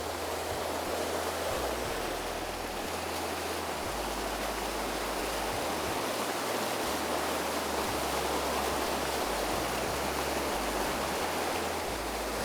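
A mountain brook with small waterfalls in the Lou valley gives a steady, dense rush of flowing water with a low rumble, unbroken from start to finish and with no voices.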